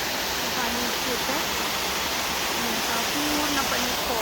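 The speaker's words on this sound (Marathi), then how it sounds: "इथून तो फॉल असा ते मागून तिथनं येत आहे पाणी" Water pours over a waterfall, seen from above where the stream runs toward the drop, as a loud, steady, unbroken roar that fills the whole stretch.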